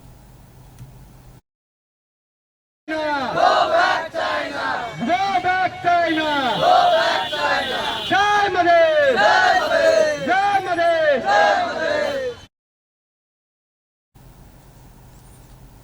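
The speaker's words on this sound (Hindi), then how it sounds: "जनकपुर धाम में चीन विरुद्ध प्रदर्शन करैत युवा लोकनि चीन हड़पने नेपाली भूमि फिर्ता के माग करैत नाराबाजी समेत केने छल" Young protesters in Janakpur chant slogans against China over seized Nepali land, a loud rhythmic crowd of voices shouting in unison for about ten seconds between quiet gaps.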